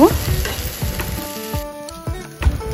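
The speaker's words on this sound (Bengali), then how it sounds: "আদা আর রসুন পেস্ট আমি এগুলো সব একসাথে দিয়ে আবার মশলাগুলোর সাথে ভালো করে ফ্রাই করে নেব" Ginger garlic paste frying with spices in a pan for chicken keema, with a loud close sizzle and a series of stirring scrapes and clinks at an irregular pace.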